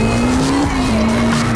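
Loud, sustained tire squeal from a car drifting in the CarX racing video game, a steady high whine over constant engine drone.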